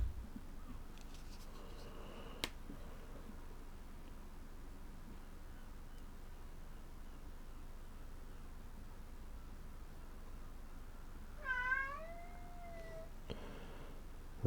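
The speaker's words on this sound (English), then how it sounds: "That's my cat." A pet cat named Lucian gives a single short meow, faint and slightly distant, against a quiet room hiss with a soft tap earlier on.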